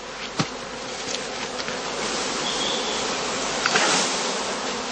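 Swarming honeybees at a heather skep apiary on heathland, a dense continuous buzzing drone close to the microphone, loud and steady with occasional nearer passes, no talking.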